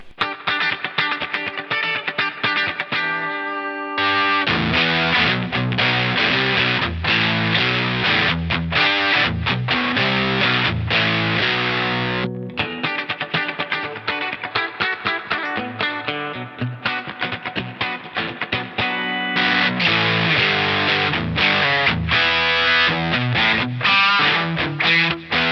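Electric guitar played through distortion and delay effects, routed via a Joyo Orthros line selector pedal, producing a dense, loud, sustained distorted tone with continuous chords and riffs, a brief cleaner gap and a short dropout midway.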